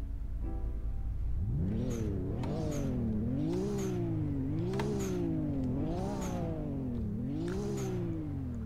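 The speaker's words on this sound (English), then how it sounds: "So here's the startup on the R34 GTR." A stock Nissan Skyline R34 GT-R starts up: a starter crank gives way to a loud, close idle that swells and dips in repeated revs, with turbo whooshes and whistles on each blip.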